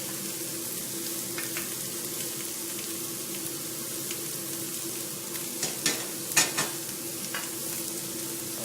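Cauliflower pieces fry in plenty of oil in a pan over high heat, a steady close sizzle with a few sharper clatters of stirring near the end.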